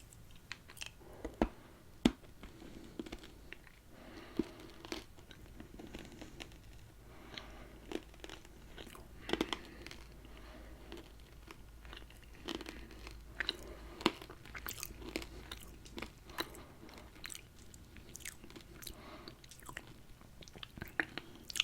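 Jaffas, round candies with a hard outer shell and solid chocolate inside, are crunched and chewed close up in a quiet room, giving soft, irregular crunches and wet chewing sounds that continue throughout at low volume.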